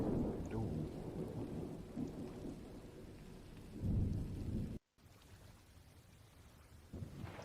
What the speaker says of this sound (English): So there is thunder sounds all around you.